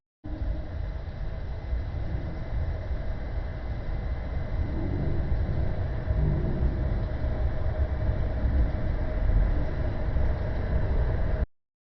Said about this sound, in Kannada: ಭಟ್ಕಳಕ್ಕೆ ನಮ್ಮ ಟ್ರೈನ್ ಬಂದಾಯ್ತು.